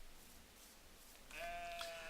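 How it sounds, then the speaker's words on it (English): A goat bleating in Minecraft, a single wavering nasal bleat rising partway through after a quiet stretch, clear and close. "A goat."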